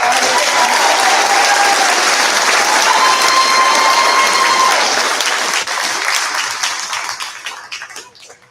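Sustained crowd applause fills a graduation ceremony for an 8th grade class, dense and steady for several seconds before thinning and fading out toward the end.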